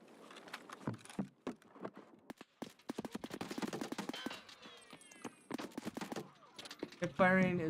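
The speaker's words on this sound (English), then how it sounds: "Hip firing is not very accurate." Rapid hip-fired gunfire from Payday 2 crackles in irregular bursts across the stretch, mixed with other game effects and a louder burst near the end, while a player talks over much of it.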